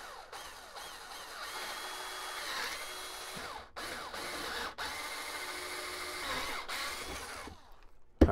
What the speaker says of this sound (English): This is a little battery operated guy, as you can see here. It's a nice little drill